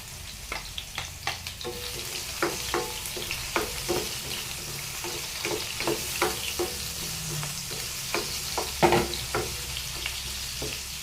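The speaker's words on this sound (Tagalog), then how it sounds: "bisa muna natin ang kamatis, bawang, sibuyas" Tomato, garlic and onion sautéing in a pan for a mixed vegetable stir-fry, steady sizzle broken by repeated sharp spatula scrapes and clacks against the pan.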